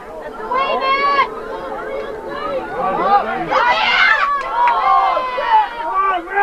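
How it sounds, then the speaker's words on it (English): Rowdy crowd at a boys' JV basketball game in 1992, loud overlapping shouts, chatter and calls swelling and falling continuously, with voices near and across the gym. "Crowd getting a little rowdy."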